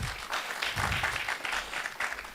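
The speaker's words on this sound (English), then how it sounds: "A round of applause." Audience applause fills a colloquium hall of the Department of Development Planning and Management, a dense, steady patter of many hands clapping at once, sustained and fairly loud with no voices over it.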